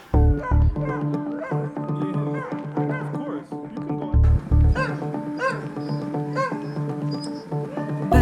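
A large team of sled dogs yaps, barks and yips together in a noisy overlapping chorus at close range. The excited calls carry on steadily, with a few louder barks cutting through the din.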